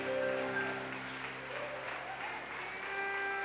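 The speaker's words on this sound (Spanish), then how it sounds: "denle otro aplauso otra vez a esta familia maravillosa" A church congregation claps for a family, giving sustained, dense applause from a full room that keeps an even loudness throughout.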